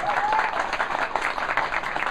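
An audience applauds a guest author, Raphael Draccon, at a book club event, a steady wash of clapping with no one speaking over it.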